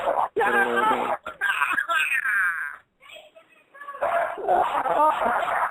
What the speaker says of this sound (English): Ah, dog, don't bite.